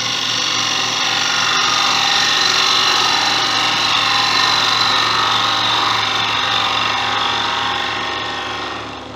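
A wood lathe spins a wine bottle stopper blank on a mandrel, giving a steady, loud mechanical whir with a faint grinding edge that holds throughout and eases off slightly at the end.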